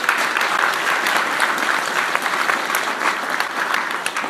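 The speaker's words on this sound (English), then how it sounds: "So let's give all of those 8 a hand of applause." A party convention audience breaks into steady, dense applause, the clapping continuous and fairly loud throughout with no talk over it.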